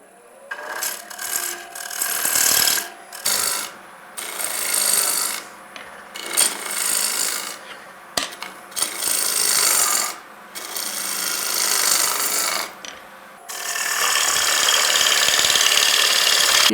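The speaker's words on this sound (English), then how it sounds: "We now can put the shape into the base of our bowl." A woodturning gouge cuts into the base of a wooden bowl spinning on a lathe, giving bursts of loud rasping shaving noise broken by short pauses as the tool is lifted and repositioned.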